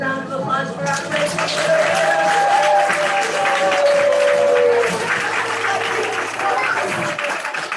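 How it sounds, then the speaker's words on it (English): A small backyard Shabbat gathering applauds after a Hebrew song, loud sustained clapping with voices mixed into the crowd, swelling then tapering off. "Round of applause for our praise."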